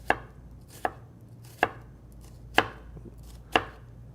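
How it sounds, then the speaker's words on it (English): A knife cuts vertical slices through a halved onion on a board, five crisp, evenly spaced chops close by with a faint hum between them. "you want to do vertical slice"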